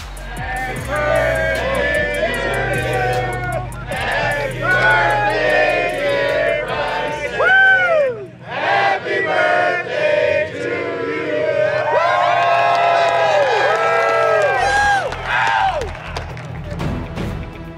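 A golf tournament crowd in Chicago cheers and whoops loudly in support, with dense shouting voices swelling and falling over about eighteen seconds, close and continuous.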